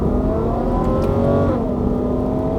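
A 2014 Ferrari FF with a 6.3-liter 650-horsepower V12 pulls away in wet mode on a damp road, its loud, steady engine drone rising in pitch as it accelerates close by.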